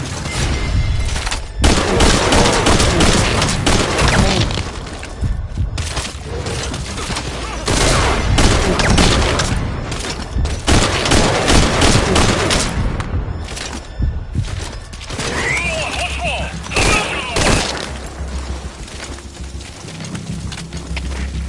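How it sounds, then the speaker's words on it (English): Sustained bursts of rapid gunfire with heavy thuds and booms, dense and loud throughout, like a chaotic firefight in the game Metal Gear Solid Ground Zeroes. "We've got unidentified gunfire."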